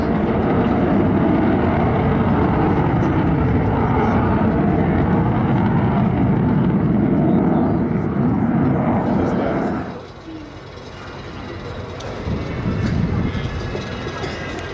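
An Avro Vulcan bomber makes its final fly-past at the 2014 Farnborough Airshow. A loud, roaring broadband jet rumble holds steady, then drops off abruptly and fades to a lower, distant rumble.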